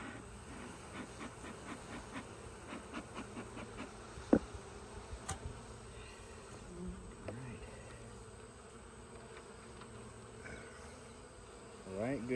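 Honey bees buzzing around an open hive during a frame inspection, a constant soft drone with individual bees passing close, a sharp tap midway and faint handling noises near the end.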